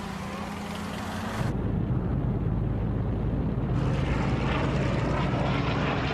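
Allied WWII military propeller aircraft roar steadily overhead, a loud continuous drone that swells after a quiet opening and holds without a break.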